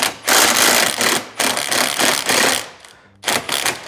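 A socket wrench fitted with a 15mm socket backs out a utility basket mounting bolt, giving rapid loud ratcheting bursts close by in several quick runs, with brief pauses between strokes.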